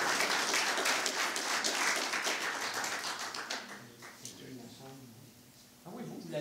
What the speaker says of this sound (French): Vous pouvez l'applaudir, évidemment.